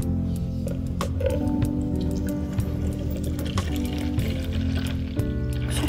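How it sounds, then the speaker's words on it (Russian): Water is poured into a container with a steady trickling, filling sound and small splashes and drips, close by and fairly loud. "Поможешь мне налить воду?"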